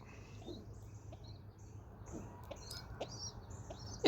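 A pet bird makes her complaining noise, a few faint chirps and soft clucking calls scattered over a quiet room hum, with no talk.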